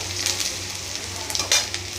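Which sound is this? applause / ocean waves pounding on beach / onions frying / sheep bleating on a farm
onions frying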